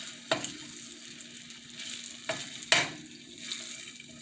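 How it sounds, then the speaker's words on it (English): Flour dough frying in hot oil for a Jamaican-style breakfast, giving a steady close sizzle with a few sharp crackles and pops, no voices. "after your oil is hot, now you're gonna start to put in the flour"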